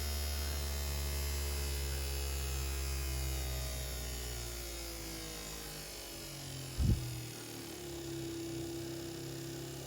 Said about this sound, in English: you can hear the noise as the pitch increases and the windshield wiper motor increases in speed